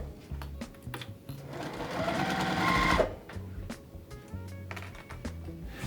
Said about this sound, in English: Sew your first 2 pieces together.